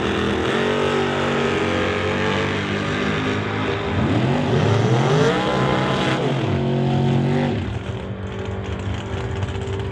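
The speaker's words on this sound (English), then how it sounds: "Kevin Minick will get set to stage up the Ken Specialty Auto Titanium Auto Group Chevrolet to race Dustin Brewington's Camaro." Drag racing cars, a Chevrolet against a Camaro, at an NHRA Summit ET Series meet, with loud sustained engine roar that rises and sweeps in pitch as the cars accelerate down the strip, then fades slightly.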